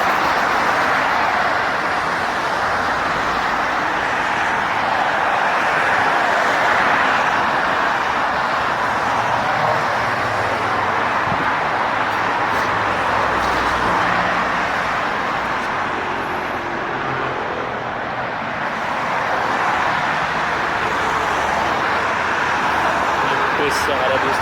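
Morning street traffic in Istanbul, with many cars and buses passing in a steady, continuous roadway roar that stays close and fairly loud throughout, while a voice talks over it.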